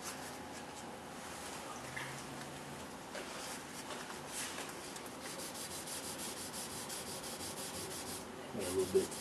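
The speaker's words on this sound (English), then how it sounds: "I'm going to go ahead and go up to a 2000 grit now." Wet sanding of a clear coat with 2000 grit sandpaper, a soft continuous rubbing and scrubbing close by, faint and steady with slight rhythmic strokes.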